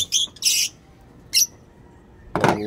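Several short, sharp pigeon squawks and chirps come close by in separate bursts, with quiet pauses between them and a louder call at the end.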